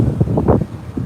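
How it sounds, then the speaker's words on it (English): Wind blowing into a microphone outdoors near an arena, loud gusty rumbling buffets in quick bursts with no one talking. "oh god, sorry, very windy"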